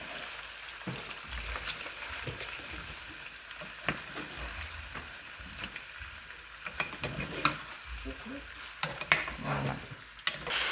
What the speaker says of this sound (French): On laisse les oignons griller un peu pour que le parfum des oignons pénètre bien la viande.